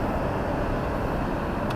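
Hyundai 3.8 engine with the exhaust resonator removed droning steadily at about 2,000 RPM on the highway, a constant low in-cabin hum with road noise.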